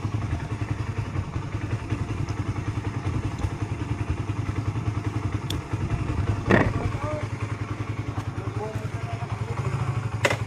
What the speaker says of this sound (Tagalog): Motor ride na naman tayo.